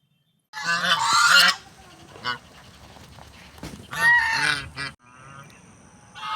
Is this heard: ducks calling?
yes